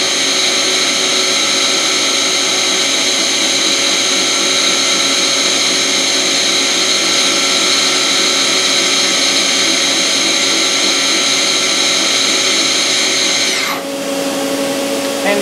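A DMG Mori Sprint 42/8 Linear CNC Swiss lathe runs its spindle at 4000 RPM, a loud, steady machine whine with layered high tones that holds evenly throughout, then shifts and winds down near the end.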